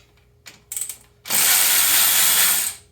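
A ratchet clicks in a few quick bursts on the primary clutch spring bolts of a Speed UTV, followed by a loud, steady mechanical whir for about a second, up close, with no speech.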